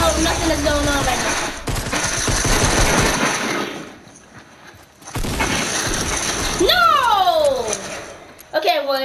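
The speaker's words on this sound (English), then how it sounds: "They just started off shooting." Rapid bursts of automatic gunfire fill a Fortnite match, loud and close, broken by a brief lull. Swooping game effects and short voice sounds come near the end.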